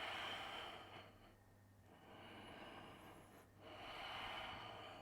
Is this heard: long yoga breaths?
yes